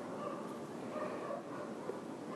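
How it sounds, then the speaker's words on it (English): Dogs bark in a dog park somewhere below, faint and far off, half buried in a constant broadband outdoor rush. "Way down there is the dog park, where most of the dogs are heard barking."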